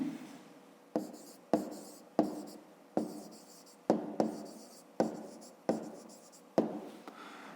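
Pen writing on paper during a fifth-grade maths exercise on division with remainders, with repeated distinct scratchy strokes and taps in an irregular rhythm, close and fairly quiet, no talking.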